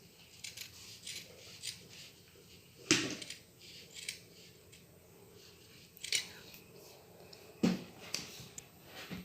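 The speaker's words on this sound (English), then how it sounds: "So I'll be cutting out the armhole like this." Scissors cut an armhole into fabric for a kaftan-style senator top, a few sharp snips standing out over quieter soft cutting sounds, close and fairly faint with no talk.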